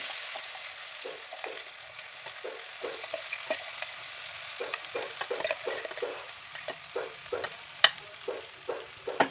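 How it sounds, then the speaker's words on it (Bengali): Green pea paste fries in a wok while a spoon stirs it, producing a continuous close sizzle with regular scraping strokes and a few sharper clacks near the end. "এবার দিয়ে দিচ্ছি কড়াইশুটির পেস্টটা"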